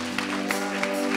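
A church congregation claps for the Lord in a brief burst of applause, steady and fairly close, with a sustained tone running underneath.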